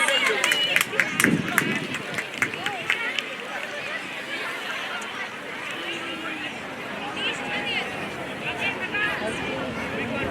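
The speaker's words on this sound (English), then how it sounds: "Please give them a big round of applause." At a school annual sports meet's medal ceremony, the crowd gives a burst of scattered clapping that soon dissolves into a steady hubbub of chatter and moving people.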